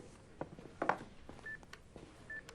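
Speakerphone call being dialed: a series of short telephone keypad tones and beeps, fairly quiet, with no speech over them.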